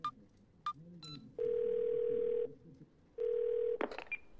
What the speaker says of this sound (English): Can I dial the operator?